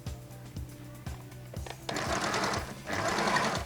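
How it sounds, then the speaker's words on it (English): A sewing machine stitches the crotch seam of a men's native trousers, first in a few short separate bursts, then in a loud, fast continuous whirring run with a brief pause between, close up and without talk. "So now I'm stitching on the crotch line, starting from the waistline downward"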